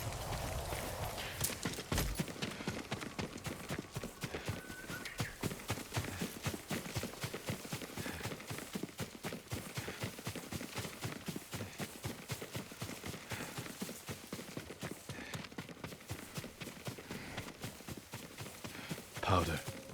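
Horse hooves in the video game Ghost of Tsushima clop steadily in a quick, even rhythm throughout, fairly faint against a dense background, with voices faintly present.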